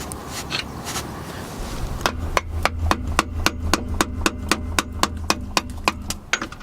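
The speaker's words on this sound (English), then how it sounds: "Okay, pry it off. Screwdriver in hand." Someone works a screwdriver under the badly rusted rear differential cover of a 2000 Jeep Cherokee. After a short stretch of rustling, about sixteen sharp metallic taps follow in a steady, even rhythm over a low hum, close and clear.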